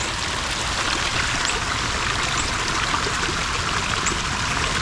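A creek flowing just after rain beside a house with a downspout, a steady, dense rush of moving water that stays close and even throughout with no pauses.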